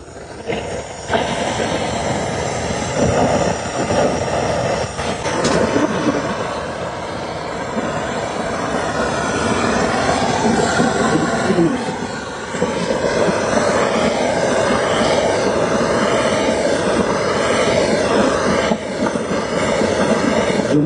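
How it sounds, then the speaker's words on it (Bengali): Gas bottle torch flame heating a Yamaha R15 v3 engine part in a workshop, a loud continuous roaring hiss that holds steady for about twenty seconds with brief dips, close to the listener. "গ্যাস বোতলটাকে প্রথমে ধরিয়ে নিতে হবে।"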